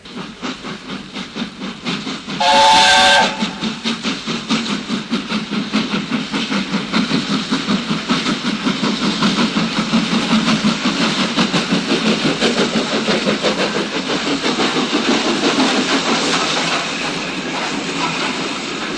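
A steam engine gives one brief shrill whistle, then puffs away with rapid rhythmic chuffs and hissing steam, steady and fairly close.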